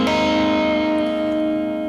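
Electric guitar played through Fender amp effects with distortion, one sustained chord ringing loud and steady with a slightly fading tail, no voices over it.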